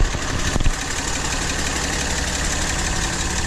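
A Cummins 6.7 diesel pickup engine idles nearby with a steady, loud rumble and faint knocking clatter, unchanging for several seconds after a brief bump at the start.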